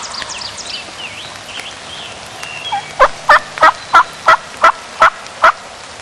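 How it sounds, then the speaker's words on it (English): A wild turkey gobbler in Pennsylvania gobbles close and loud, about nine times in an even, quick rhythm. Soft bird calls and rain-damp background noise come before the gobbles. "just listen to how many times this turkey gobbles right at the camera"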